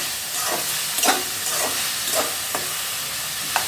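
Vegetables sauté in a pan with salt and turmeric for a kuzhambu, giving a steady close sizzle with soft scraping stirs at regular intervals and no voices.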